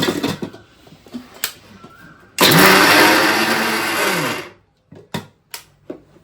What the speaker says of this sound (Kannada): ಈ ಥರ ಒಂದು ಮಿಕ್ಸಿ ಜಾರ್ ಇಟ್ಕೊಂಡು ಅದಕ್ಕೆ ಇದನ್ನೆಲ್ಲ ಹಾಕ್ಕೊಂಡು ತರ್ತರಿಯಾಗಿ ರುಬ್ಕೋಬೇಕು ಸ್ವಲ್ಪ